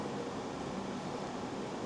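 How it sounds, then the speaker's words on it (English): A steady air conditioning fan whirs inside the underground military museum tunnels in Guernsey, a constant, even broadband hum that fills the space with no talk over it. "If you can hear a fan behind me, it's the air conditioning."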